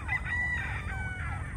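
Gamefowl crowing on a gamefarm, several overlapping crows in quick succession, fairly close and distinct over a low hum of background noise.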